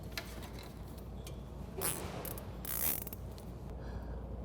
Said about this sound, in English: secure that to the main wire harness just below the regulator using a cable tie